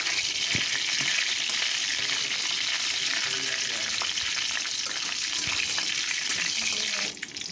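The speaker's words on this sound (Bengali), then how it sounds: "গোটা জির দিয়ে পর ফোড়নটাকে একটু ভালো করে ভেজে নিচ্ছি" Whole cumin seeds fry in oil over a low gas flame, giving a steady, close crackling sizzle that runs unbroken for the whole stretch with no talking.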